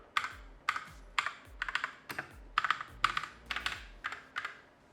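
Keys on a discarded computer keyboard being typed on as a test, a close run of clacky keystrokes in irregular bursts, loud and alone with no talking.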